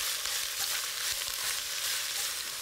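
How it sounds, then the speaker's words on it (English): Finely sliced onion rings browning in a little oil in a pan over brisk heat, a steady bright sizzle with faint crackles and light stirring, close and even, with no voices. "the onion is finely sliced into rings and then browned in a little oil for a few minutes over quite a brisk heat"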